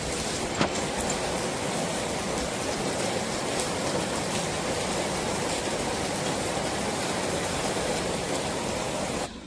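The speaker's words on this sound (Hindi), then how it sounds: "कितनी तेज बारिश हो रही है।" Dense, steady downpour of heavy rain, a continuous hiss filling the air with no voices.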